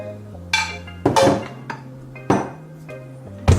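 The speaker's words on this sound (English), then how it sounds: "mix for a good minute" Banana bread batter being mixed in a bowl, with a utensil knocking and scraping against the bowl in a few separate clinks and scrapes, close and fairly loud, over a low steady hum.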